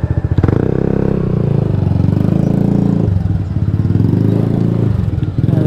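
A motorcycle engine runs during a 2025 registration test on Aguinaldo Highway in Dasmariñas, loud and close, with a steady pulsing idle that swells and dips as the throttle shifts.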